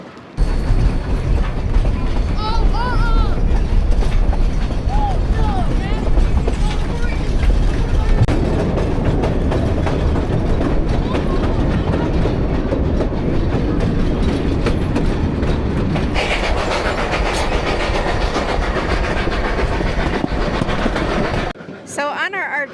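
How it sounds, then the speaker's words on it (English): A coal-fired steam train runs along the track at Chama in northern New Mexico, a loud, close rolling clatter with rhythmic clicking and mechanical rattle that brightens near the end, with some speech mixed in. "when you're going down the track, you're looking at the steam engine and it's blowing all that black smoke out"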